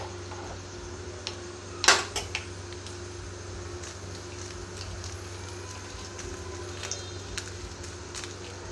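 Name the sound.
black mustard seeds added to hot oil, sizzling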